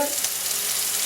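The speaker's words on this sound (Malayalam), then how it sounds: "അപ്പം ഇതിലോട്ട് നമുക്ക് ആ സവാള ഇട്ട് കൊടുക്കാം." Sliced onions sizzle and fry in hot oil in a pan for a Kerala-style fish-less fish curry, a steady bright crackling hiss, close and continuous.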